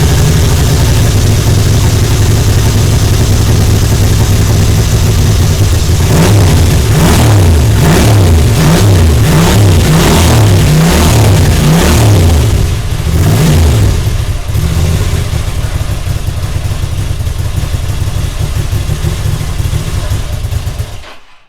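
A Ducati 650 Pantah motorcycle engine fires up and revs hard in a series of rhythmic throttle blips, then settles into a loud, steady idle, close and continuous throughout.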